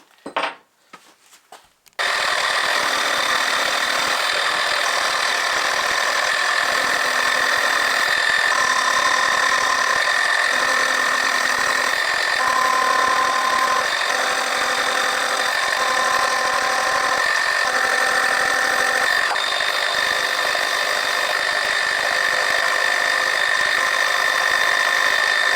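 A milling machine runs a dovetail cutter through a dovetail, a steady loud high whine with sustained ringing tones over a continuous cutting hiss after a brief clatter at the start.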